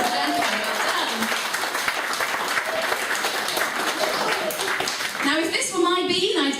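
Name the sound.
comedy audience applause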